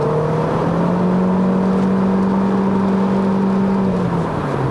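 A turbocharged Proton Inspira 2.0 with a CVT accelerates hard toward high RPM, its engine drone holding a steady rising whine throughout, loud and close from inside the cabin, with no talk.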